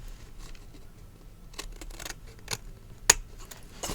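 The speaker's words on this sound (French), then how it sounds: "on va venir couper les coins" Scissors snipping the corners off a paper Christmas advent calendar, a few sharp isolated cuts spaced apart over quiet room tone, close and crisp with one louder snip near the end.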